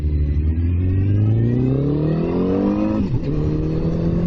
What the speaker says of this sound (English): Oh, bad gear change there.